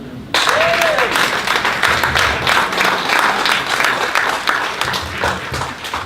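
Veterans in a meeting room break into applause, a steady, fairly loud burst of clapping that fills the room right after a voice briefly speaks.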